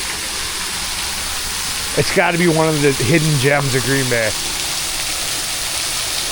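A secluded waterfall a couple miles outside Green Bay pours in a steady broadband rush that fills the whole clip, with someone speaking over it for a few seconds near the middle.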